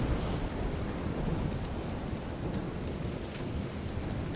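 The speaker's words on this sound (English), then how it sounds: "Oh, the rain is cool." Steady rain pours down in The Division 2, a dense, even hiss with low rumbling beneath it, constant throughout with no voices.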